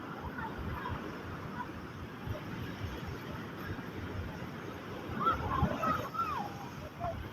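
Sea waves wash and splash along a beach at sunset with a low, steady surge that swells near the end, while people talk and children's voices carry nearby.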